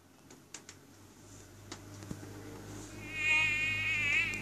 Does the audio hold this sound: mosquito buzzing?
yes